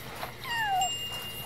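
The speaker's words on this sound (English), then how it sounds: "kitten!" A Mountain Moggy kitten in the video game Yonder: The Cloud Catcher Chronicles gives a single short, bright, rising-then-falling meow, clear and close.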